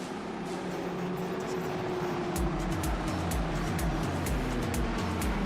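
IndyCar engines in a sim racing game at Phoenix, as the pace car pulls off, hold a steady droning hum, then rise into pulsing, stepping revs after a couple of seconds.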